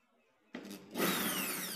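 An electric power drill fitted to take out a bolt kicks in with a sharp start, then winds up into a loud, steady high whir that runs on close by.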